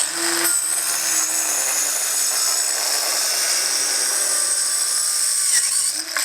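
A Dremel Blueprint portable saw blade cuts with a loud, continuous, high-pitched whine over faint, regular low thumps, heard alone without talk.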